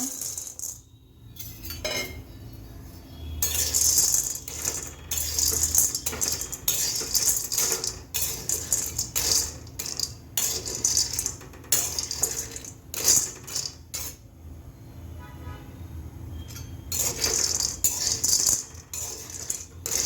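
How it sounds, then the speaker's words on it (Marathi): Sandge lentil dumplings dry-roast in a pan, rattling and clattering against the metal as they are tossed and stirred, in busy bursts of hard clinks and scrapes close by. "प्रथम आपण सांडगे भाजून घेऊया"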